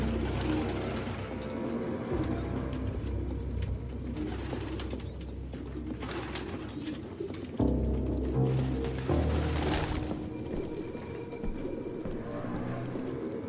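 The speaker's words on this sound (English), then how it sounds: "No human could live with all these fucking pigeons." A flock of pigeons in the video game Detroit Become Human coos steadily throughout, a dense, continuous, close murmur with occasional wing flutters and no voices.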